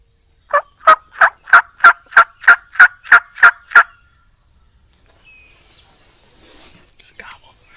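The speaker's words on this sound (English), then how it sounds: "Got a bird gobbling right here." A wild turkey gobbles close by on a Wisconsin hunting morning, a rapid burst of about ten sharp rhythmic notes, followed by quiet whispering in the near-silent woods.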